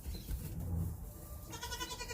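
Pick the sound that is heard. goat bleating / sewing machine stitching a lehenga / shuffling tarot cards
goat bleating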